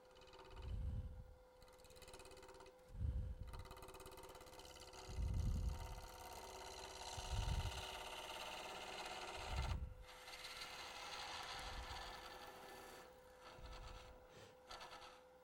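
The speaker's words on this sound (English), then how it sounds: "I'm just going to use my spindle gouge, kind of make a nice clean cut in here and try to make a nice cove down there" Spindle gouge cutting a suspended form on a wood lathe, a steady rasping scrape with regular louder bursts every couple of seconds as the tool sweeps through the spinning wood, close and alone.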